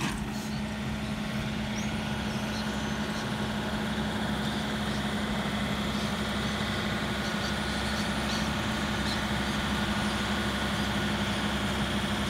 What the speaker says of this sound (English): He is operating the root pruner.